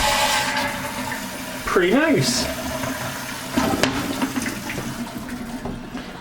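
A Sloan Flushmate pressure-assist toilet gives a sharp, forceful flush, then a rushing refill of water. A short spoken remark is heard partway through.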